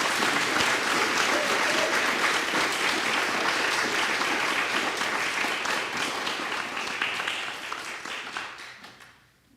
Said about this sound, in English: Can we offer them another round of applause?